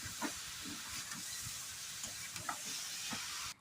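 Mango and sugar stirred together in a pan for mango jelly: a faint, steady hiss with soft, repeated scraping strokes at a slow rhythm.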